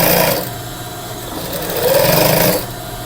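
A sewing machine runs loud and close as it stitches a polo shirt collar, with a steady whirring that rises in speed and intensity partway through before easing back.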